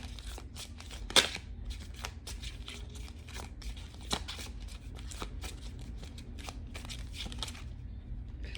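Oracle cards are shuffled by hand close up in a rapid run of papery riffles, crackles and snaps, with one sharper burst near the start.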